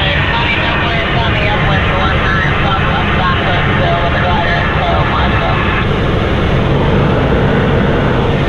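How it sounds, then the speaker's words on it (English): A tow airplane runs at a glider airfield, a loud continuous engine roar and broadband rumble filling the whole stretch without pause, close and steady throughout. "Here's the airplane that we were just talking about."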